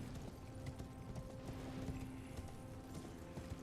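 A horse gallops in the Elden Ring video game, producing a continuous quick patter of hoofbeats over a steady low hum, moderately loud and uniform throughout.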